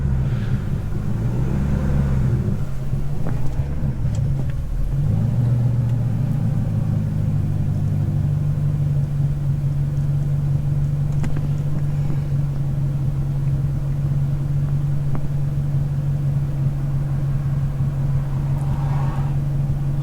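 A BMW E39 540i with a 4.4 V8 idles with a low-rpm surge, its low hum wavering and dipping in the first few seconds before settling into a steady, close idle drone, with no talking.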